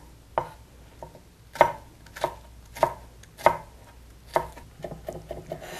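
An onion is sliced into half-centimetre pieces with a knife on a cutting board while making baby food: about nine crisp, close chops land in an uneven rhythm, with brief quiet gaps and no talking.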